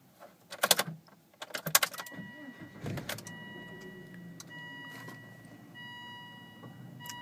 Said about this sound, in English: So we'll give it a little start up.